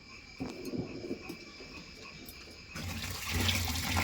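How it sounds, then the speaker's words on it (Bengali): Running water splashes and swishes as rice is rinsed in a home kitchen, faint at first beneath a steady insect-like hum, then growing into a fuller, louder pour of water toward the end. "আমি এখন চাল ধুচ্ছি কারণ ভাত বসাবো"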